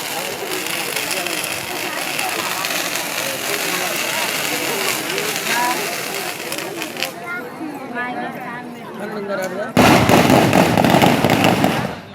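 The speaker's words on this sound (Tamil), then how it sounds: "காலையில் 5:30 மணி வரைக்கும் பட்டாசு வெடிச்சுக்கிட்டு தான் இருந்தாங்க" Dense, continuous crackle of firecrackers bursting at a Tamil village temple festival for Muthalamman in Ramanathapuram, loud and unbroken, with a sharper louder burst near the end and crowd noise underneath.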